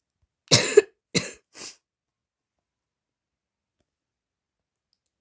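Three quick coughs in a row, close and fairly loud, each burst shorter and softer than the last, then silence.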